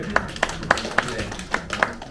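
Sparse, distinct hand claps, about six evenly spaced, come from a small adult church class, fairly near and without other voices.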